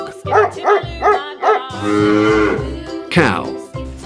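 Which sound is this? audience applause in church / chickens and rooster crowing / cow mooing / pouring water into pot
cow mooing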